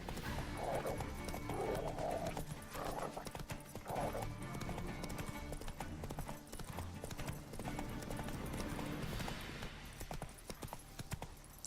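Geralt's horse Roach gallops in The Witcher 3, hooves clip-clopping in a fast steady rhythm under game ambience, with a faint whinny near the start.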